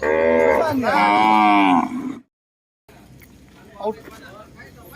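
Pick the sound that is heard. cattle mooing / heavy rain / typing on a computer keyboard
cattle mooing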